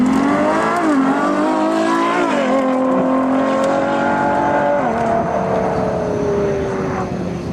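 Ferrari LaFerrari's hybrid 6.3-liter V12 revs loudly and continuously, its pitch climbing and dipping through several surges, up close with no talking.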